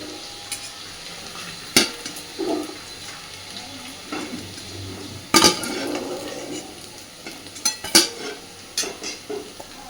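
Fried soybean pakoras are lifted from a pan of hot oil. A steady soft sizzle runs under sharp metal clinks and scrapes of a utensil against the pan at irregular intervals, with no talking.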